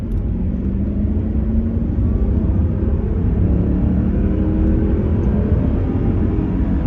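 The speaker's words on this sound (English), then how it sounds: "Don't accelerate up the Hagley Mile" A classic car accelerating up the Hagley Mile gives a steady, close engine rumble and drone with rising harmonic tones, sustained at an even level with no breaks and no talking.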